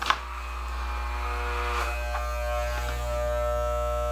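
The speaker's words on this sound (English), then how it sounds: "I'm gonna shave his head." Steady buzzing hum of electric hair clippers running while shaving a head, a constant close drone with faint changes in tone as the blades move through hair.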